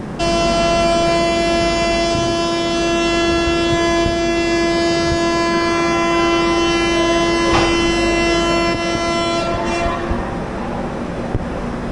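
The 16592 Hampi Express, an Indian Railways train at Mysuru Junction, sounds one long, loud, steady horn blast as it departs, lasting most of the stretch before cutting off over rumbling rail noise.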